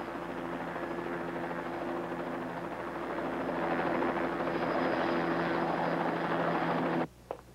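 Helicopters approach as a steady, loud rotor and engine drone that swells and then cuts off abruptly near the end.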